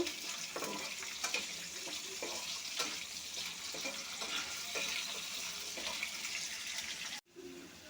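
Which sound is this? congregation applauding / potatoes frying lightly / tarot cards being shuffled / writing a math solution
potatoes frying lightly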